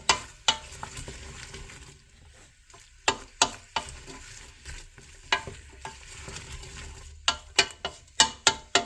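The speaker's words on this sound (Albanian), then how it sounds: "I hedhim këto. I trazojmë. I kam hedhur një tenxhere të madhe." Cubed beef for tasqebap frying in a large pot, with a steady sizzle broken by repeated sharp scrapes and clatters as it is stirred.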